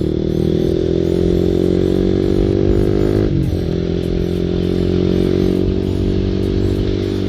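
Motorcycle engine revving hard and steadily close by, with one brief dip and recovery in the middle of the pull.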